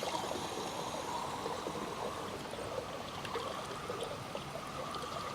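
Water runs steadily into a container, a constant close trickling rush with no pauses.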